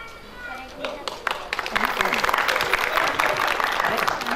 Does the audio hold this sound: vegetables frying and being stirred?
no